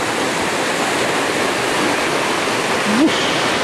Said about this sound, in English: The whole river comes through this little channel